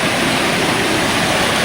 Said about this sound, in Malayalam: വെള്ളച്ചാട്ടം ഭയങ്കര ഫേമസ് വെള്ളച്ചാട്ടം കേട്ടോ ഈ അരുവിക്കുഴി എന്ന് പറഞ്ഞ